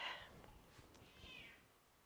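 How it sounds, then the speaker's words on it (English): A pet cat meows a few times, quiet and close, in a home kitchen with low room noise between calls. "the kitty says hello"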